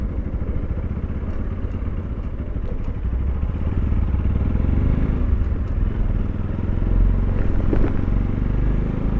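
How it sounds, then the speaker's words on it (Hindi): A Bajaj Pulsar NS200 motorcycle being ridden on a road near a parking area, its engine drone steady and close throughout, mixed with heavy helmet wind rumble. "अभी जो मैं बाइक राइड कर रहा हूँ वो है पल्सर की NS200।"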